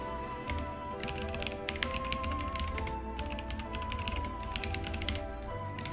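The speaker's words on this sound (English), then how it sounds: "you will be hearing my keyboard" Computer keyboard typing during a live 3D texture-painting game-development stream, bursts of loud, close key clicks in uneven runs over a steady background of music or ambient sound.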